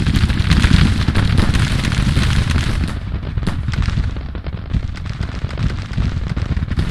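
Civil War musket volleys and artillery fire in a battle video game, dense rolling crackle of many gunshots with heavy booms throughout, loud and continuous, a dip midway before the firing picks back up.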